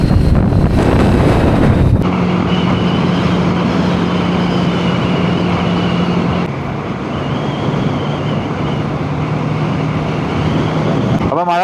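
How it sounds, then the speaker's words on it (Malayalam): Cold wind rushes over riders on motorcycles (TVS Apache RTR 310, Triumph Scrambler 400, Yamaha MT-15) along a hilly bypass near Kattappana, Kerala, as a loud, continuous roaring buffet with a faint steady engine drone underneath. "നല്ല തണുത്ത കാറ്റ് വീശുന്നുണ്ട്"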